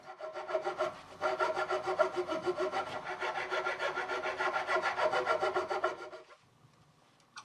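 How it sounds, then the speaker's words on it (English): A metal file rasps in a steady rhythm across the nut slot of an electric guitar neck being built, flattening the bottom and squaring the sides. The close, scratchy back-and-forth strokes go on for about six seconds, then stop. "I use a file to make sure that the bottom is flat and that the sides are square."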